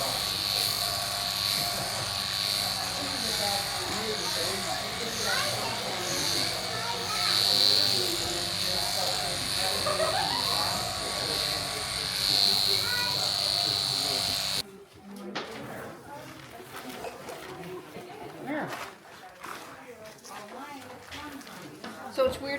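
Electric shears buzz steadily while shearing a sheep at a farm, a continuous whine with people talking over it, then the clipping cuts off abruptly, leaving quieter background talk and farm noise.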